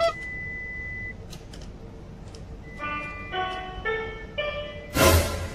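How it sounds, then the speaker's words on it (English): A ship's fire alarm system being tested onboard, sounding as a series of electronic beeping tones in steady repeated bursts, ending in a loud broadband blast, with a noisy room in the background. "Fire alarm test."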